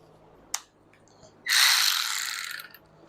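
A ratchet loosens one of four bolts on an engine fan, with a single click and then a quick burst of rapid ratcheting lasting about a second, close up.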